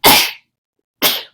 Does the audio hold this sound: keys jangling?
no